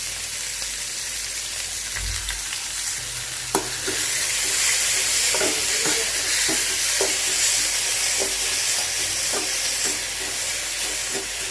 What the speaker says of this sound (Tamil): வெங்காயத்தை மெல்லிஸாக கட் பண்ணி இருக்கிறதுனால லோ ஃப்ளேமில் தான் வச்சு வதக்குறேன்.